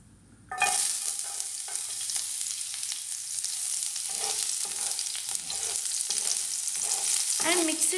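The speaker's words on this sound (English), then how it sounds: "Once the cumin seeds start sizzling, add pieces of garlic and chopped pieces of green" Cumin seeds, garlic pieces and chopped green chillies hiss and sizzle steadily in a hot pan after a sudden loud start, with occasional stirring scrapes and no talking.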